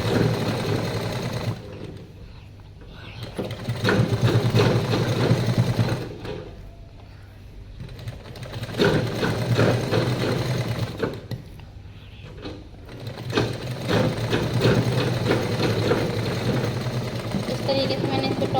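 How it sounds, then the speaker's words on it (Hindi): A sewing machine stitches a top coat seam along a folded sleeve edge in bursts of steady mechanical whirring, pausing briefly between runs, with someone talking over it. "तरीके से मैंने इस पे टॉप कोट की सिलाई लगा ली है।"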